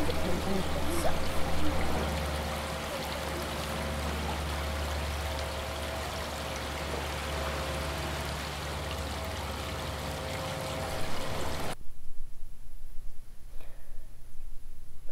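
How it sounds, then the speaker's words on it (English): Water flows in a multisensory art installation, a continuous trickling wash with a low steady hum beneath it that runs for most of the stretch and then cuts off abruptly near the end, leaving a quieter hiss. "We also use the sound of wind in the tree and the sound of water"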